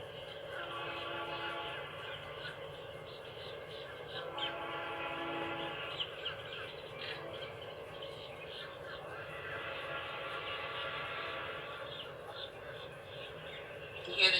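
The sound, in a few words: train horn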